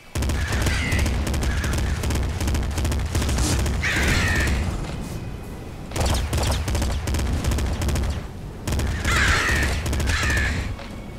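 Crows cawing in the video game Nuclear Throne, harsh calls in short bursts over a dense rattle of rapid gunfire, loud and close throughout.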